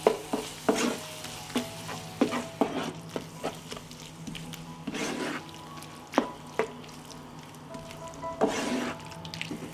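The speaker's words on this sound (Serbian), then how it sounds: "Promešat ću i propržiti 1 minut." Ground Hungarian sweet paprika fries with vegetables in a pan, a soft continuous sizzle broken by repeated scraping strokes of a spoon stirring, close and clear with no voices.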